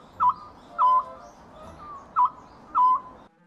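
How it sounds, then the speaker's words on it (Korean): An Oriental scops owl calls four times at an even pace, short clear notes over quiet dusk fields, distant and soft against a faint background. "소쩍새 울음소리가 들려왔다"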